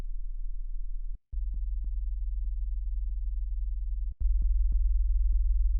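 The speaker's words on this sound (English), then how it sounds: "you can clearly see these clean sine waves at different rates kind of interacting and multiplying in this way." A deep throbbing synthetic tone from multiplied clean sine waves, produced by a custom Max MSP external, pulses steadily with faint clicks and two brief dropouts. After the second break it returns slightly louder.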